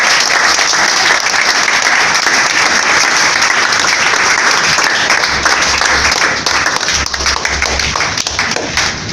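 An audience at a religious gathering gives loud, sustained applause, with dense clapping continuing steadily throughout, close and full.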